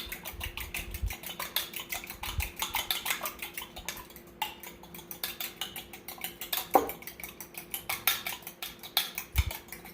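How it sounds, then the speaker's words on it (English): A whisk beats eggs in a bowl, clinking quickly and steadily against the sides in a close, continuous rhythm of small metallic taps with a few louder knocks. "Give those eggs a nice whisk until they're thoroughly combined."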